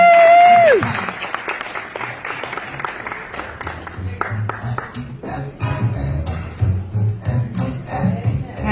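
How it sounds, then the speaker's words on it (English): An audience claps to welcome a spoken word poet on stage, a tone sweep fading at the start and then a scattered, swelling round of applause with crowd noise that grows louder toward the end. "Put your hands together for Alma Fisher."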